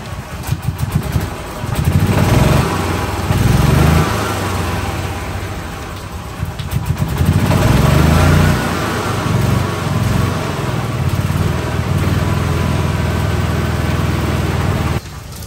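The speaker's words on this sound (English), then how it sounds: "it's turning the motor over, which means that belt is tight enough now" A 2013 gas/electric golf cart motor is cranked over by a belt and never catches, a steady loud mechanical whirring drone with surging rhythmic pulses that runs throughout.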